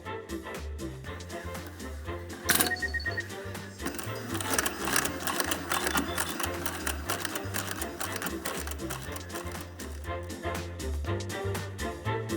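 Sewing machine stitching down the pressed hem of a loose-weave garment fabric, a steady fast mechanical whir with rapid needle ticking running continuously at moderate, even loudness, with no talking over it.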